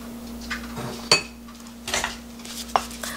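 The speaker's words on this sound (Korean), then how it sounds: "그럼 이제 마저 이제 섞어보겠습니다." A spoon clinks and scrapes against a bowl while mixing bean powder with salt, with several short metallic taps and light scraping strokes at close range, and no voices.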